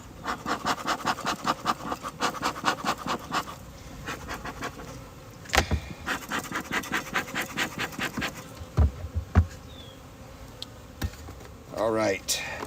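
Honey bees buzz around a hive as a smoker is used on it during a winter apiary inspection, the drone steady under scattered rustling and clatter with a few louder knocks.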